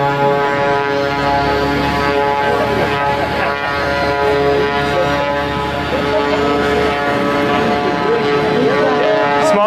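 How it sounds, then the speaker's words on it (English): A small propeller plane's engine drones loudly and steadily throughout, a rich buzzing roar with strong harmonics, close by and continuous. "Smallest airplane on the airfield makes the most noise, it would seem."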